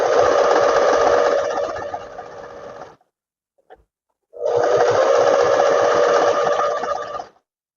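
A sewing machine runs in two long, loud, steady stitching bursts of about three seconds each, separated by a quiet gap, while sewing the lining of a tailored square-neck vest.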